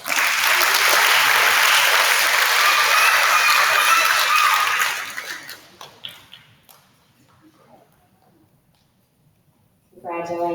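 Audience applause at a fourth-grade school awards ceremony, a dense roomful of clapping that runs steadily for about five seconds, then thins to scattered claps and quiet before a voice starts to speak.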